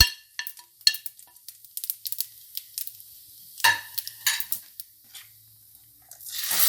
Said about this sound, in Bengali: এখন কড়াতে 3 চামচ মতন তেল আছে, আমি ওতে একটু জিরে ফোড়ন দিয়ে দিলাম।